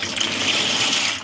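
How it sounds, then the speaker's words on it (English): Pasta shells going into a pot of boiling water on a home stove, a steady rushing, bubbling wash that stays loud and close for about a second before easing slightly. "I think it's time to go ahead and add in our pasta."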